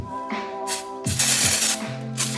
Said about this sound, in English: let's spray it down